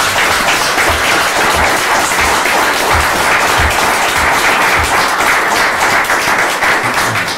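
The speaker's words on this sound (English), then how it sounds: "Can we give a round of applause for Sean?" Loud, sustained applause fills a town Board of Selectmen meeting in Brookline as the room claps for a departing member, with many hands pattering densely and close for over seven seconds.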